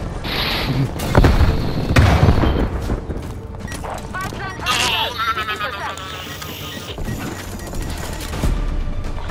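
Frag grenade blasts and gunfire in the video game Call of Duty Black Ops Cold War, several booms and bursts of shots with mechanical clatter, under frequent in-game shouting and voices.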